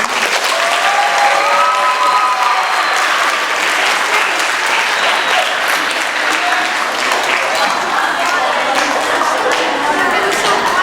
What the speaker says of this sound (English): Let's have a round of applause for homework